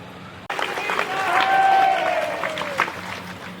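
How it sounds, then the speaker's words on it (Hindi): An audience applauding during a religious discourse by Vansha charya Udit Muni Naam Saheb at a gathering in Semariya, a steady wash of clapping that swells after a sharp start and then slowly tapers. "आप लोग ताली बजा रहे हैं"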